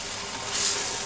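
Polenta made from cornmeal, boiling water and butter bubbles and sizzles in the pot while being stirred, a steady close hiss with a brief brighter scrape midway.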